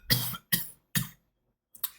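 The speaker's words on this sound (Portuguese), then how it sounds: "Peço desculpas aí pela tosse" Three sharp coughs come in an even rhythm, followed by a softer fourth, close and loud against silence, from a man recovering from pneumonia during an anatomy tutoring session.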